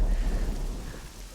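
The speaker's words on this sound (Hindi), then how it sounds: "बारिश शुरू हो वहाँ गई।" Heavy rain pours outdoors, a dense low rushing wash with a deep rumble beneath it, steady and fairly loud throughout with no voices.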